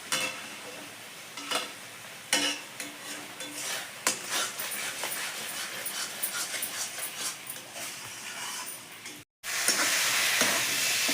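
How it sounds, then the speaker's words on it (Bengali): Spice paste with cumin powder stirred and fried in a pan for Bengali prawn malai curry, giving a steady close sizzle with intermittent scraping stirs; a dog whimpers faintly at times, and the frying turns louder and denser near the end. "মশলাটা ভালো করে কষা নেবে"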